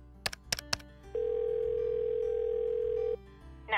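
Phone keypad beeps in a quick set of short tones, then a steady dial or ringing tone holds for about two seconds in a quiet room while an emergency call to 911 is placed.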